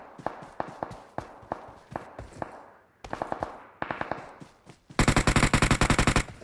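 Rapid bursts of close gunfire from the PUBG battle royale video game, single sharp shots and short automatic strings separated by brief pauses, ending in a loud, dense rattle of sustained automatic fire.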